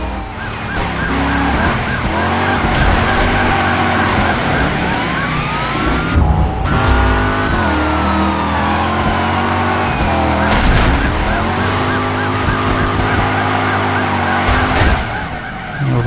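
Cars race and skid in the driving video game Driver, engines roaring loudly and continuously with tyre squeals and rising and falling revs, a Mustang among them, with no talk.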